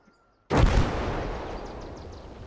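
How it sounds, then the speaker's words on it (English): A single loud mortar strike lands in the Gates of Hell Ostfront Finland campaign, a sudden heavy blast after near-silence followed by a long, rumbling decay that fades slowly. "Right where the mortar strike went?"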